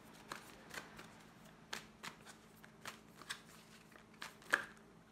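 Tarot cards being shuffled by hand, a run of soft irregular riffling flicks close by, about a dozen separate bursts over a quiet room.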